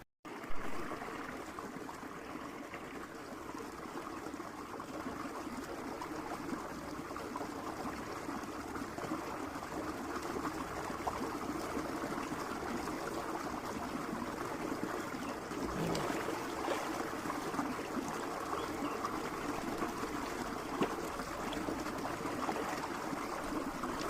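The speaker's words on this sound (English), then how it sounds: "Taking shower now, shower time." A shower runs in a continuous, steady hiss of falling water, fairly quiet and unbroken throughout, with no voices.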